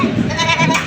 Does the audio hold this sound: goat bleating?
yes